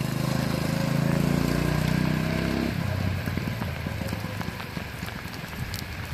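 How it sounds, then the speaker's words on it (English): Rain falls outdoors in Ontario as a soft, steady hiss and patter, with a low engine drone under it for the first few seconds before the pattering continues alone, faint and constant. "It is raining out in Ontario."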